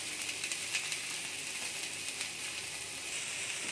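Paneer grilling in butter on a hot tawa: a soft, steady sizzle and hiss that holds at an even level, with faint crackles and no talking.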